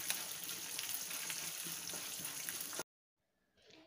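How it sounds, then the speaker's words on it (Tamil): Bengal gram lentils and dried red chillies dry-roast in a pan for a mint, coriander and curry leaf chutney: a steady frying crackle that stops abruptly, then near silence with a faint rustle at the end. "கல்லப்பருப்பு செவந்த உடனே இதுலயே நம்ம எடுத்து வச்சிருக்க வரமிளகாவையும் சேர்த்து வறுத்தறலாம்"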